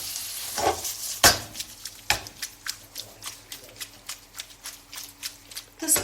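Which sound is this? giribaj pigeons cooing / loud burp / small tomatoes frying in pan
small tomatoes frying in pan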